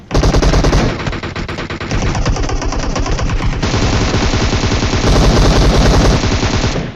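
Automatic rifle fire rattles in rapid, relentless bursts in a PUBG match, loud and close, with dense shots running almost without pause for several seconds.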